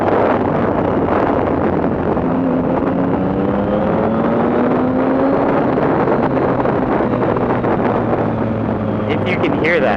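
Triumph Street Triple Rx motorcycle fitted with a Coffman's exhaust, riding at speed, with a steady engine drone, rising and falling tonal sweeps as it revs through gears, and heavy wind rush over the helmet.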